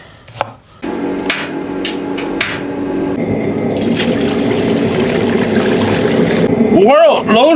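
Water pours steadily into a pot to be boiled for blanching pork belly. A few sharp knocks come first, then a continuous rushing stream runs to the end, with a brief vocal sound near the finish.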